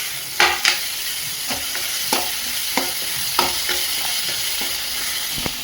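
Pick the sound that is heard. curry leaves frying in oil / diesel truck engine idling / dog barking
curry leaves frying in oil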